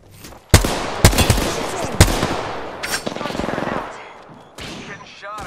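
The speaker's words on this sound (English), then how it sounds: "Getting shot at." Gunfire in Apex Legends: several loud, sharp shots punctuate the first two seconds, then a rapid automatic burst and a later single crack, with game effects and occasional voice in between.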